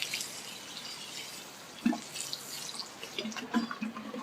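Water is poured onto freshly sown beetroot and salad seeds, giving a soft, steady patter and trickle with a few louder drips and splashes, fairly faint.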